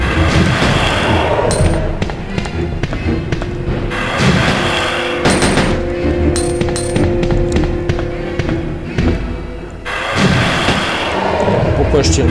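Gunfire aimed at an enemy in Resident Evil 2, a run of sharp repeated shots and bursts over a dense, loud game soundtrack.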